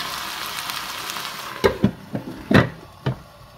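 Leeks cooking in a pan with a splash of water, a soft hiss that gives way to several sharp, separate sizzling bursts and stirring knocks near the end.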